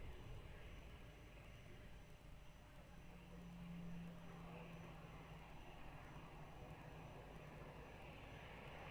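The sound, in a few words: airplane approaching runway 02 at Lisbon Airport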